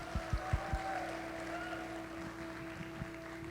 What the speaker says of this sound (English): can we have one big round of applause for both of them?